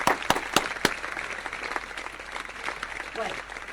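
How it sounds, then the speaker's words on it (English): An audience at an award ceremony claps in a brief burst of applause, starting with a few sharp claps and settling into a steady patter, with a voice talking over it. "Big applause."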